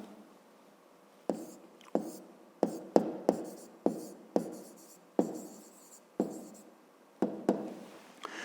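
Hand writing out a math hypothesis, pen scratching across paper in a series of short strokes and taps with pauses between, close and quiet.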